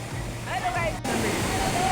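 Kalu waterfall in Maharashtra roars as a steady, dense wash of rushing water close by, with a brief whistle-like tone and a short dropout midway.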